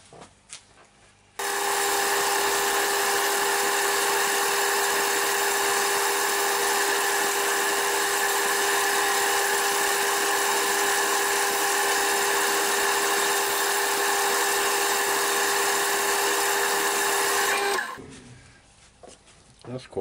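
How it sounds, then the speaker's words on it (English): A wood lathe spins a limed ash bowl during polishing, giving a steady, even whir with a faint tonal hum. It starts abruptly, runs unbroken for about sixteen seconds, then winds down, with quiet room sound before and after. "So I'm going to carry on polishing that up now."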